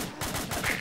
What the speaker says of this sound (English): Guns going off, so insane.